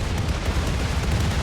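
Dense, continuous rumbling explosions from weapon volleys in the video game Rimworld, loud and close, rolling together without clear gaps.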